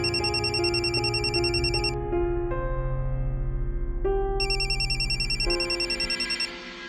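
A telephone rings on and off without being answered, a bright electronic ring recurring in bursts over a steady background of music.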